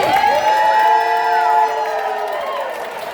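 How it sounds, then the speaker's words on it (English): At an End Poverty Now rally, a crowd cheers and whoops in a sustained swell of voices that fades gradually over a few seconds, with no one speaking over it. "Can we give one more round of applause for Rebecca and Jasmine?"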